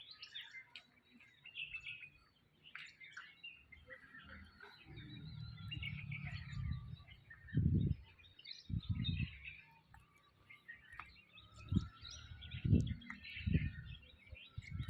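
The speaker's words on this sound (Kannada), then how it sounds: "ಎಷ್ಟು ಪಕ್ಷಿಗಳು ಬಂದು ಇಲ್ಲಿ ನೆಲೆಸ್ತವೆ" Birds in a park chirp and call intermittently in the upper register over a low rumble of outdoor background noise, with brief louder thumps now and then.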